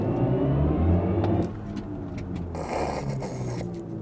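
A BMW M50 electric car plays its synthetic driving sound, a deep droning hum with a rising whir under acceleration, heard close and steady inside the cabin, changing tone partway through.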